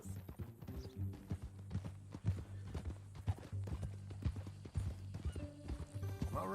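A horse in Red Dead Redemption 2 walks with steady, regular clip-clop hoofbeats while a whinny rises near the end, all faint over a low droning game background.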